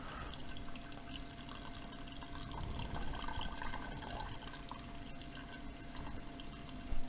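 Water trickling and dripping from a bag of steeped brewing grain into a bowl, a steady close pouring and splattering with no talk.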